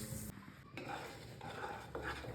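Peanuts and sesame seeds are mixed together in a pan for til laddoos, with quiet scraping and rattling of the spoon against the metal and a faint sizzle beneath.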